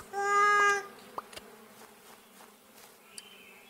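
A short, close, loud buzzing tone from a rocky bee in the beekeeping game APICO, followed by faint scattered clicks and game sounds.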